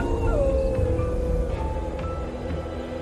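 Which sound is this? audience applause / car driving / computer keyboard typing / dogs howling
dogs howling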